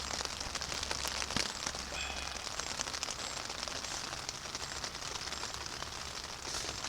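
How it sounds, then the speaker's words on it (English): Steady rain falling during a hike, a soft, even hiss of drops on surfaces close by, faint and continuous with no voices. "It has not stopped raining all night."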